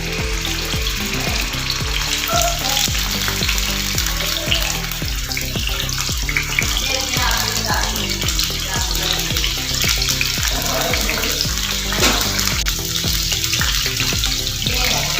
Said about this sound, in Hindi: इसके लिए मैंने तवे पर डाला है ऑयल। ऐसे फिश इसमें रखते जाएंगे।